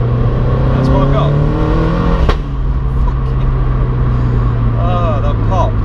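A Toyota GT86 with a forged engine drones loudly from inside the cabin, with a sharp exhaust pop cutting through midway, while people talk over the engine noise.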